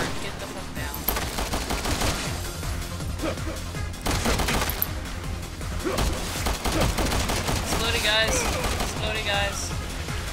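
Dense, continuous gunfire from Resident Evil 6 Mercenaries, overlapping bursts of shots rattling throughout with game effects, while people talk over the shooting.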